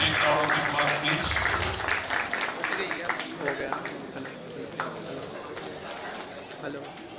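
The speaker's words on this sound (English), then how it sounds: "Give them a big round of applause" Applause from an audience at an ICAR-CIAE Bhopal event, fairly loud at first and gradually thinning over about seven seconds, with voices and background chatter mixed in.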